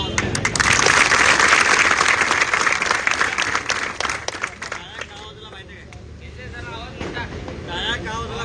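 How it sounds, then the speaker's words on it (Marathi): Loud, dense applause from a crowd at an outdoor Hindu nationalist rally in Nipani, strongest for the first five seconds and then thinning into scattered clapping and crowd murmur, with some wind noise. "त्यांच्यासाठी आपण एकदा जोरदार टाळ्या वाजवल्या."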